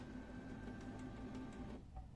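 A Canon Pixma G-series printer filling ink during a printhead cleaning gives a faint, steady mechanical hum with a soft repeating whir, fairly quiet and unaccompanied.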